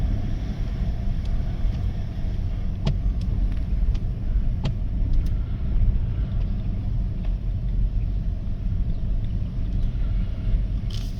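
A 2017 Ford Expedition's engine drones steadily at constant speed while driving, with a low rumble and some wind noise and a few faint clicks, no talking heard.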